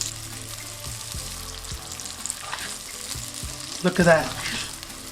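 Steak frying in melted butter in a hot pan, a steady crackling sizzle throughout with a brief louder burst of spattering near the end, while someone speaks briefly over it.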